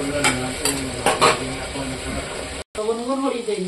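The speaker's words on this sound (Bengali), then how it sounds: "এটা অল্প ভাজবো মশলার সাথে।" Lentils fry with spices in a pan while a spoon stirs them, giving a bright sizzle and scraping strokes, with a voice speaking in between.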